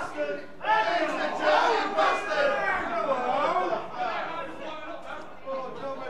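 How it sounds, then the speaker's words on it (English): Spectators at a £13k blackball-rules pool money match shout and clamour together, loud overlapping voices rising at once and then tapering into scattered chatter. "Some crowd in here tonight, Mark, lad."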